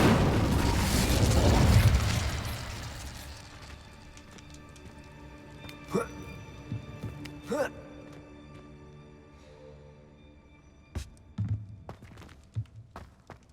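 An Incendio fire spell goes off in Hogwarts Legacy with a loud whooshing fiery burst for the first few seconds that fades away. Sharp magical cracks and zaps follow at intervals, with softer clicks and thuds between them.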